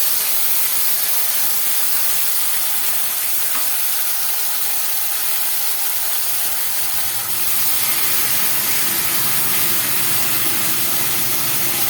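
Onion paste blended with tomato hits a hot pan for an omelette curry, giving a steady loud hiss and sizzle that runs through with a slight rise in intensity partway, no voices.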